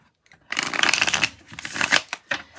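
A Linestrider Tarot deck is shuffled by hand, with bursts of crisp riffling and flapping cards, close and clear, in two main runs with short pauses between.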